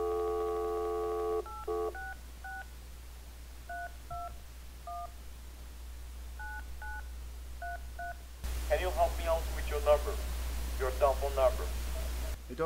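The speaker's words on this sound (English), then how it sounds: "We're going to start dialing right now." Dialing tones from a landline telephone: a long tone, then a quick series of short beeping keypad tones in uneven bursts, followed by a voice talking over the line.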